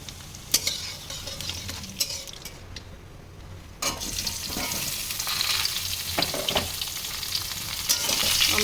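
Dried red chillies split in half and five-spice seeds sizzle in hot oil with a steady crackle, broken by sharp stirring scrapes and clinks. A brief quieter lull comes before the frying swells louder again.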